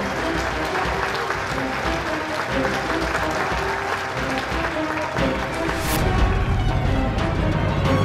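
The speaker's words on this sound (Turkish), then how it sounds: "Alia Zeyn Abdullah için alkış alayım lütfen." Guests applaud Alia, Zeyn and Abdullah at a celebration before a cake is cut, a loud sustained round of clapping with voices mixed in and a burst of cheering near the end.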